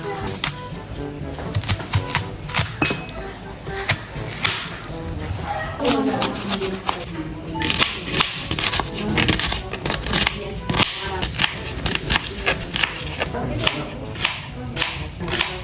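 Repeated sharp knife chops on a cutting board as white onion and other ingredients are cut for dinakdakan, a steady run of quick taps close by, with faint voices in the background.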